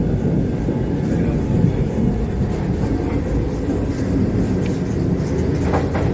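A Vande Bharat train runs nonstop from Varanasi to Prayagraj, its steady low rumble and rolling noise heard from inside a coach, loud and unbroken, with faint rhythmic clatter.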